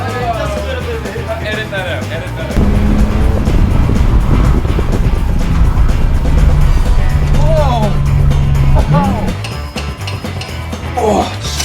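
A 2018 Alfa Romeo Stelvio drives along with a steady road and engine rumble inside the cabin, while people talk and laugh over it.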